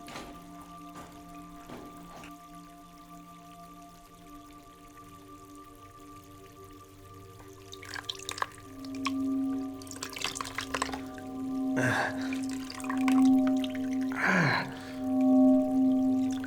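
Water is poured onto wounds in a fantasy elf story, trickling and splashing in the second half under steady tonal music.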